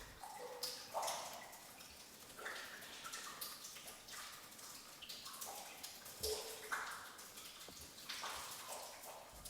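Water trickles and drips through a limestone cave fed by an underground river, a faint, quiet patter of irregular splashes and flowing water in a hushed space.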